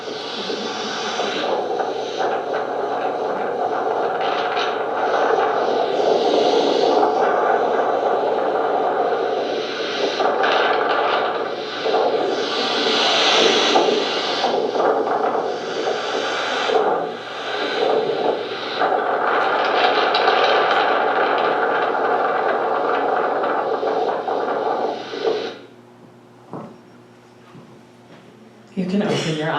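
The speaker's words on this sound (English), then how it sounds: "What you just heard is the sound of 100-mile-per-hour winds blowing through the San Gorgonio Pass." Roaring 100 mph gusts tearing through the San Gorgonio Pass, a loud, sustained broadband rush that surges and dips for about 25 seconds before dropping off abruptly near the end.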